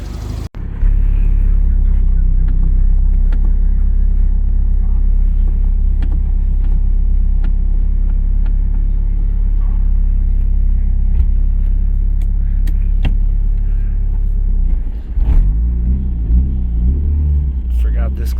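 A Mitsubishi Talon's engine drones loud and steady while the car drives, a close, heavy low rumble holding throughout, with a brief shift in pitch near the end as the clutch engages.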